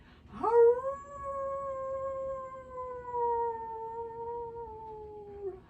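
A person imitates a werewolf howl in a single long, steady, wavering howl that slowly falls in pitch, heard alone at moderate loudness.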